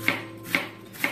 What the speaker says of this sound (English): you and I are going to slice onion to a quarter inch thickness